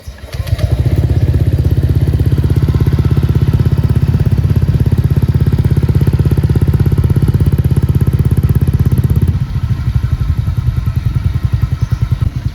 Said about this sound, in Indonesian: Kalau masih kering berarti langsung aja kita nyalakan motornya